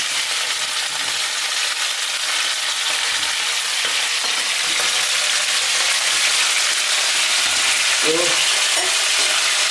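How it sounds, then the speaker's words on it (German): French fries drop into hot oil and fry with a loud, dense, continuous hiss and crackle that fills the whole stretch, while someone says a brief word near the end. "Pass auf, jetzt kommt Pommes. Öl ist schon heiß."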